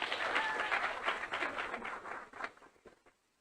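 An audience applauds at a student government meeting, a brisk burst of clapping that thins out and stops after about three seconds.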